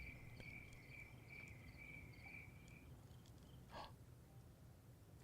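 Crickets chirp at night in a dark house, a steady high trill that runs for about three seconds and then cuts off, leaving quiet room tone with a faint rustle.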